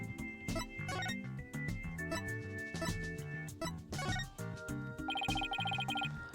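Telephone rings in a video game, an electronic trill bursting out near the end over a busy bed of plinking game music.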